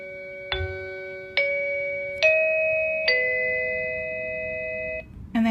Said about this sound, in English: So you can do the music one.